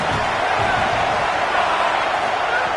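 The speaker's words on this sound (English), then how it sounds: "This crowd bringing the energy and noise early." Loud, dense crowd roar at a college football game, a steady wash of cheering and noise throughout with no break.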